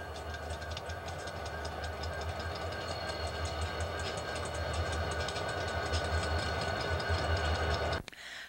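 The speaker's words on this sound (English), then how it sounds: "see a Kansas City Southern engine getting ready to haul a" A Kansas City Southern locomotive idles loudly in a rail yard before hauling a train, its engine a steady, heavy rumble with a constant hum that holds for about eight seconds, then cuts off abruptly.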